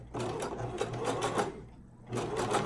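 A sewing machine stitches hair bundles together for a closure wig, running in rapid bursts of needle chatter with a short pause before it starts again, close and fairly quiet.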